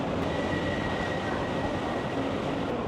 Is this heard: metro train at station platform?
yes